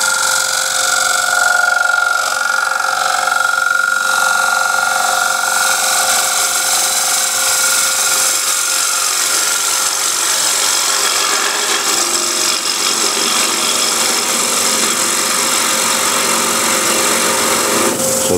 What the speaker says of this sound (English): Now since I'm getting the vibration here, I'm going to use the 16 mil bowl gouge.